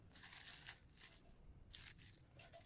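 Sausage being cut up at a cold riverside campfire, heard as a few faint close crunching, snipping strokes in short bursts with quiet pauses between.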